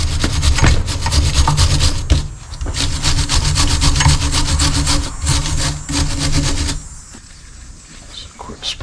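A wire brush scrapes hard and fast against the grooves of a rear brake caliper bracket on a 2021 Ford Ranger 4X4. The rapid rasping strokes are loud and close, and they stop abruptly near the end.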